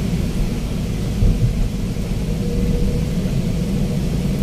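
Thunderstorm with heavy rain during a typhoon, heard while travelling by road: a continuous deep rolling rumble with dense, even rain noise, loud and unbroken throughout, with no voices.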